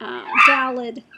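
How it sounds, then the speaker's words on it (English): A dog barks and yelps nearby in one drawn-out burst, overlapping with a voice talking. "Sorry about the barking."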